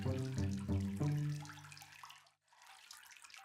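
Water poured from a watering can onto a potted red bean plant in a children's story, heard as a steady splashing stream under light tonal music, with a brief break near the end.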